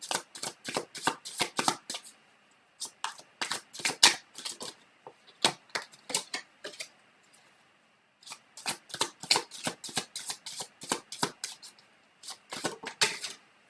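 Tarot cards are shuffled and drawn in repeated riffling bursts of sharp, crisp flicks, close and clear with short pauses between runs and no talking.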